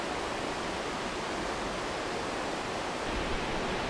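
A river stream flows near a hot spring in Izu, making a steady, even rush of water that stays unchanged throughout, with no voices.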